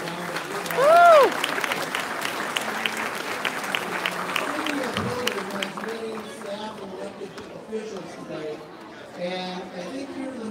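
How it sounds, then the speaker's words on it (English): Audience applause at the reopening of the Columbus Metropolitan Library's Hilliard branch, steady clapping from a crowd with chatter mixed in, holding for about ten seconds and thinning toward the end. "So give yourself a round of applause."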